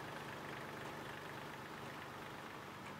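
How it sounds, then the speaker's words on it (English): Kioti tractor fitted with a backhoe, its engine idling at a steady low, even rumble while backing up, moderately close with no other sounds. "So then we back the tractor up"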